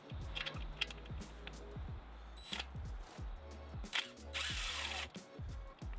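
A power tool with an 8 mm socket works bolts on a 5.7 Hemi engine intake manifold, giving repeated short whirring bursts with ratcheting clicks in between, close and fairly loud.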